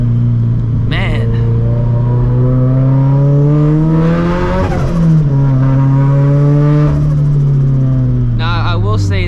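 A 400hp turbocharged FRS pulling hard, its engine note climbing steadily through the gears with brief shifts and sharp pops, loud and close from inside the car, with a voice talking over it.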